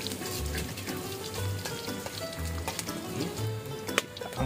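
Onions sautéing in a pan for an Indonesian eel dish, a steady close sizzle and crackle with occasional stirring knocks and low clunks, no talk.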